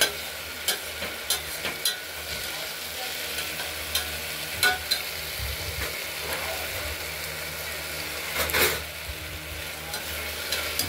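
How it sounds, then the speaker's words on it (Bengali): A steady hiss of mung dal frying in a pan fills the background while a utensil scrapes and taps the pan now and then, stirring it. "একটু ভাজা ভাজা করে নিলাম"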